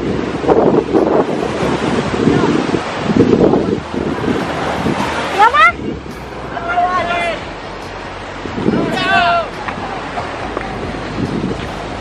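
Surf washing onto a beach in Sumba, a steady broadband roar with swells rising and falling, mixed with wind buffeting the microphone, while someone talks excitedly over it and voices overlap.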